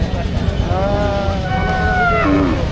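Cattle lowing at a rural livestock market, long drawn-out moos that bend in pitch, heard close and loud over a constant crowd murmur and market din.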